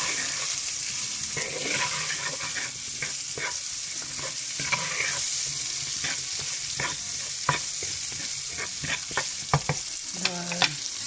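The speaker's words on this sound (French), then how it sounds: "Puis je les fais revenir, mais je ne les fais pas griller." Beef pieces fry in a pan with cinnamon, giving a continuous sizzle broken by repeated scraping and clacking stirs from a utensil, close and fairly quiet with no talk.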